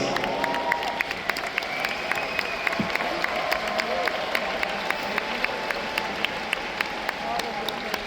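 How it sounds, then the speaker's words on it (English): A seminar audience at a leadership training event in Budapest applauds Carmen from Germany, steady clapping filling the hall throughout with crowd murmur and sharp individual claps standing out. "Can we once again please give Carmen from Germany a big round of applause?"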